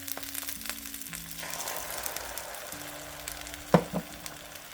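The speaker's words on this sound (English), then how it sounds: "give the egg a nice hot surface to go on. That way I can fry the egg right there" An egg frying on a hot pan pushed beside rice, a steady close sizzle with a light scrape or clink near the end, no talking.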